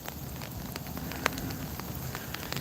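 Steady rain mixed with a little ice falling outdoors, a dense even patter with a few sharper ticks of ice, close and continuous with no talking.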